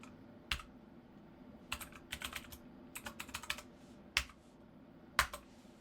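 Keys click on a computer keyboard while an IP address, user name and password are typed in short, quiet bursts and isolated taps, with gaps between them.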